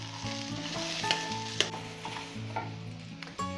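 Okra (ladies finger) frying in a pan, a close, continuous sizzle and crackle with occasional clicks of a spoon against the pan, alone with no talk.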